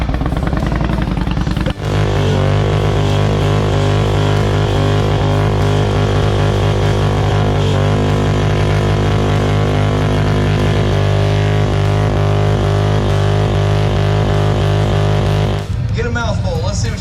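A motorcycle engine at a Mayhem in Midway event runs loud and steady with sustained droning harmonics for most of the stretch, briefly dropping off near the end, with a crowd or commentary mixed underneath.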